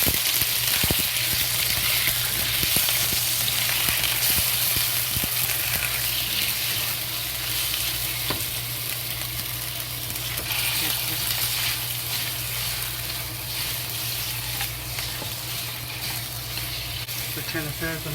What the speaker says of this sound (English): We just add the sliced pork into it to fry.